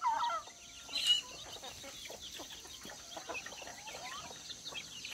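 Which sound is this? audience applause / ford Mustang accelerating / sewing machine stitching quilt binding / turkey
turkey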